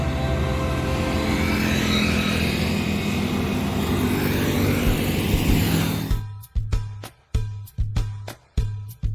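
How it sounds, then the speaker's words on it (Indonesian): A PO NPM intercity bus departing in the morning, a loud sustained engine roar with harmonic drone for several seconds, then cutting off into rapid irregular bursts and gaps. "Bus kedua dari PO NPM yang berangkat pada pagi ini ya."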